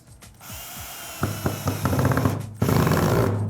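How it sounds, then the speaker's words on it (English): Power drill driving a screw into pallet wood for a coffee table, starting with scattered clicks and handling noise, then whirring in rising bursts that end in a sustained grinding run, close and alone. "I'm gonna finish it off with my drill."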